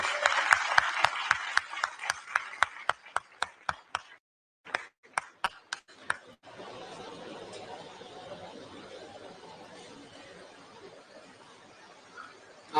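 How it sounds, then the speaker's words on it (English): Audience at a youth summit on human fraternity and compassion clapping for a Nepalese Chief Minister; sparse, distinct, sharp claps in an uneven rhythm for about six seconds, followed by low murmuring crowd chatter. "A big round of applause, please"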